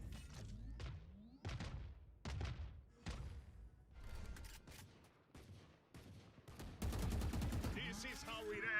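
Missiles launching in a video game, a rapid series of sharp thumping blasts and booms in uneven bursts, loud and close, with a voice speaking between them.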